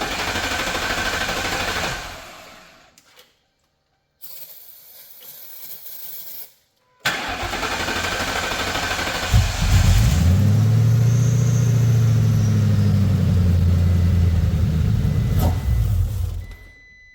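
Ford Crown Victoria engine cranking in bursts with pauses, then catching and running with a loud, steady idle and a brief rev near the end.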